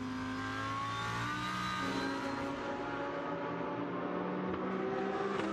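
Onboard DTM race car number 71 at the Sachsenring, engine droning loudly and steadily with rising and falling pitch as it revs through the gears, heard alone without talk.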